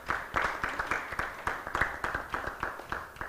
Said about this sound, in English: All right, please clap for our panelists.